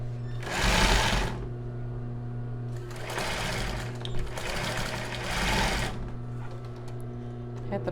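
Sewing machine stitching a crossed-base bra, three bursts of fast, close mechanical whirring separated by pauses, with a steady hum underneath and a voice heard faintly.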